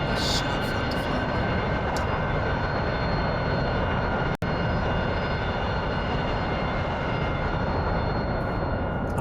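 An aircraft engine droning in flight near an airfield, steady and loud for the whole stretch, with one abrupt split-second dropout midway.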